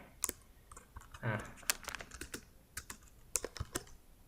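Computer keyboard keys are tapped in quick irregular clicks, fairly close and quiet, with a few louder strokes and a soft voice briefly under them.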